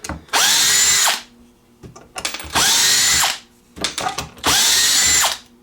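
A Teccpo 12-inch 4-pole brushed-motor cordless drill spins up three times in bursts of about a second each, loud and close, with ratcheting clutch clicks and handling noise in the pauses between runs.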